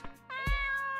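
Momo the cat meowing in the game Dave the Diver, a single clear, drawn-out meow heard close and alone after a brief soft sound.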